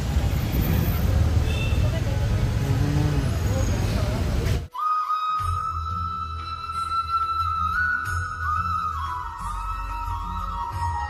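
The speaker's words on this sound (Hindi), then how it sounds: "यहाँ पर ट्रैफिक भी बहुत ज़्यादा हो रहा है दिखाता हूँ आप लोगों को" Busy street traffic in Haldwani, India, with a steady roar of vehicles, a long sustained horn blast and scattered honks over a continuous engine rumble, fairly close and loud.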